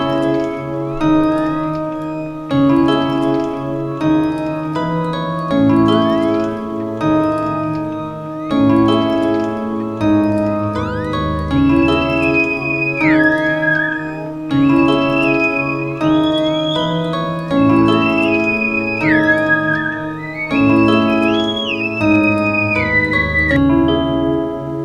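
An unprocessed synthesized melody for a sample loop plays as repeating chord stabs with a higher lead line gliding between notes, a steady instrumental pattern with no voices.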